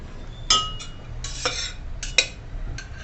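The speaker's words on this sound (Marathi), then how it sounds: "आता आपण हे छान परतवलेलं मसाला यात आता आपण यात शिजवलेली मेथी टाकून घेऊ" A metal spoon scrapes and clinks in a cooking pan as cooked fenugreek is stirred into sautéed masala for dal methi, several sharp taps and scrapes spaced out over a quiet background.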